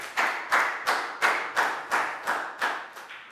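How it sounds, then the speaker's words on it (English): A Year 4 maths class gives a round of applause, rendered as about nine evenly spaced, fairly close claps in a steady rhythm, each with a short decaying tail and no talk over them. "a big round of applause for Pak Bung"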